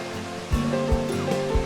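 Reedy River pouring over the falls at Falls Park in Greenville, South Carolina, a broad continuous rush of water with a few heavier low surges, nearby and loud.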